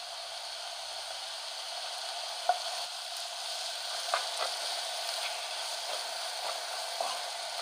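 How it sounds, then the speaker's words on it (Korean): Onion and cheongyang chili peppers stir-frying in a pan, giving a soft, even sizzle with a few light taps and scrapes of the utensil, fairly quiet and close, with no voices. "양파를 살짝 볶은 후 청양고추를 넣고 같이 볶습니다"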